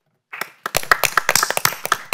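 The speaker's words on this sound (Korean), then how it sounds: "여러분 박수 보내주십시오." After a brief silence, an audience at a parent education policy forum breaks into clapping to welcome the next speaker, a crisp patter of hands that builds and stays steady, close by.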